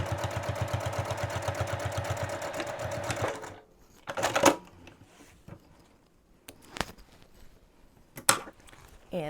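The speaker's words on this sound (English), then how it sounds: "Get your seam allowance where it needs to be. And just stitch straight down." Sewing machine stitching a seam on a boxy bag, a steady rapid mechanical run for a few seconds that stops, followed by scattered handling clicks and knocks.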